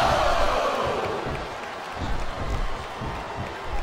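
Arena crowd noise from WWE SmackDown vs Raw 2007 reacting to Edge, a steady wash of cheering and chatter with a swell of louder shouts near the middle, sustained throughout.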